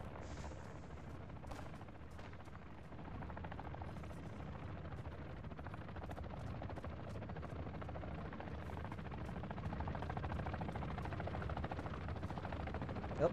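An exfil chopper in a video game drones steadily from a distance, its rotor thumping in a constant low rumble for over ten seconds, with faint gunfire crackling beneath it.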